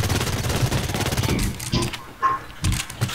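Rapid bursts of gunfire from weapons in the online shooter Blacklight Retribution, a dense fast-firing stream that breaks into a few separate loud shots toward the end, with no talk over it.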